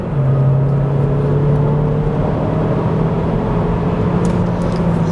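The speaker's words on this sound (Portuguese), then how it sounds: "vamos agora de novo repetir a nossa largada estolada e vamos ver se a gente consegue baixar o tempo aqui do Cruze no 0 a 100" A Chevrolet Cruze Sport6 2021 launches hard from a stalled start to 100 km/h, its engine roaring loud and close in a steady, slowly rising drone with no voices.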